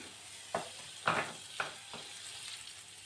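Butter melting in a preheated pan for Turkish flour halva gives a soft, steady sizzle, broken by a few brief stirring knocks and scrapes at moderate distance.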